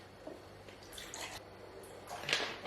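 Water pours in short, uneven splashes and drips into a container of honey while mead is being made. The sound is quiet and close, with gaps between the bursts of trickling liquid.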